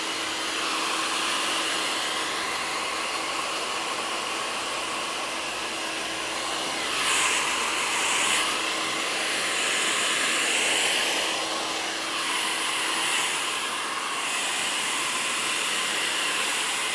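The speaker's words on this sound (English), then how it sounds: "I start by drying the roots" A hair dryer blows steadily and loudly at the roots of wavy hair being styled into a textured pompadour, its whooshing airflow rising and dipping slightly as the dryer moves around the head, with no talking.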